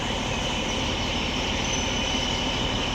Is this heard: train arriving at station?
yes